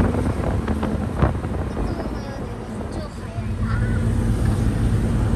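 Strong gusts batter the microphone in a street setting in Bangkok, a constant loud low rumble with buffeting bursts throughout, and faint background sounds under it.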